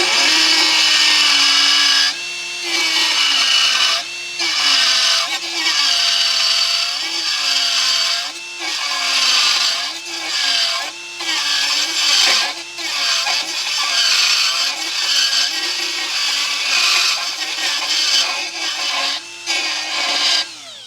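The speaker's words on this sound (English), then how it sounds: "I'm going to grind it out and redo it." An angle grinder grinds out a pinholed weld on cast aluminum, a loud high-pitched whine in bursts that dip and resume as the disc bites the metal, close and alone with no talk.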